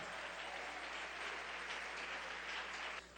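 A church congregation applauds together in a steady, even wash of many clapping hands, moderately distant and continuous for about three seconds before it drops off sharply near the end.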